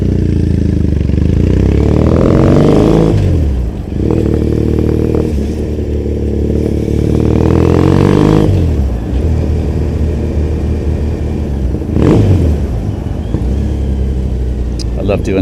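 Motorcycle engine revving and accelerating through a road tunnel in Tokyo, loud and close with rising pitch sweeps and reverberant roar, several surges over about fifteen seconds with a rider talking over it.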